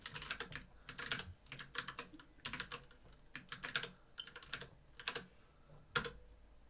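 Someone types on a computer keyboard at moderate distance, tapping in irregular bursts of quick keystrokes with short pauses between them, alone without speech.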